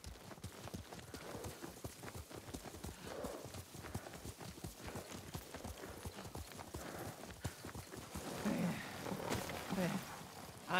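Steady clip-clop of a horse's hooves while riding in Ghost of Tsushima, a continuous rhythmic trot running throughout, with faint background voices and a brief whinny-like sound near the end.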